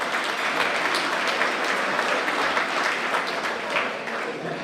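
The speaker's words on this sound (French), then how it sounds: "On peut l'applaudir s'il vous plaît" Dense, sustained applause from a gala audience at an APIPD event, loud and continuous, with a faint murmur of voices underneath.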